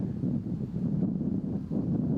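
Strong wind gusting across an outdoor golf course, a loud continuous low rumble buffeting the microphone with no voices.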